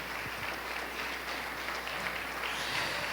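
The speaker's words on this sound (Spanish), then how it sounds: "Póngase de pie, denle un aplauso al Señor Jesús" A standing church congregation applauds in a continuous, fairly faint spread of clapping heard from a distance, steady across the short stretch with no voice on top.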